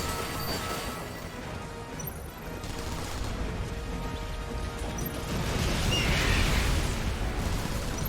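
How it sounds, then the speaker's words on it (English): A missile launcher blast in Final Fantasy VII Remake erupts in a dense, rumbling crash of explosive noise that swells louder toward the end, with layered debris and impact textures filling the whole stretch. "That was a big explosion."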